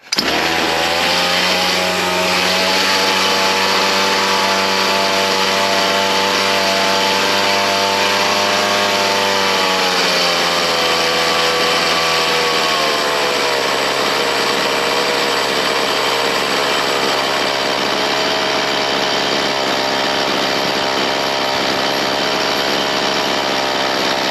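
A Ryobi C4618 chainsaw engine runs steadily at a loud, close, constant pitch, then drops to a lower idle around the midpoint as the idle screw is backed off, with no talk over it.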